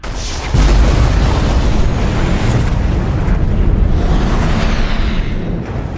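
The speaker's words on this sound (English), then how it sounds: "Massive secondary explosions." Massive explosions erupt in a sci-fi space battle, a sudden deep boom followed by a sustained, loud, rumbling roar that fills the whole stretch before tapering slightly at the end.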